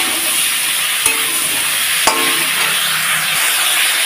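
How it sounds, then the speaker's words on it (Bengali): Potatoes and eggplant frying in a pan, a loud continuous hiss of sizzling oil with a couple of sharp knocks and a brief clatter, no talking. "তো আলু বেগুনটাকে বেশ সুন্দর করে লাল লাল করে হালকা স্টিমে আমি ভেজে নেব"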